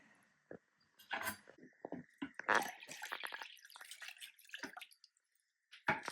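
A cup of water is poured and measured at home while cooking, with splashing trickles and drips near the mic, a clink of the cup, and short quiet pauses between pours.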